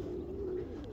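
A pigeon coos nearby in a steady low, soft call that is heard alone, near a peregrine falcon.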